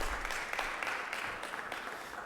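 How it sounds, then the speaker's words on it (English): A room at a 2023 legislative session day applauds a student's birthday with steady moderate clapping, somewhat distant and even throughout. "let's give him a round of applause for that"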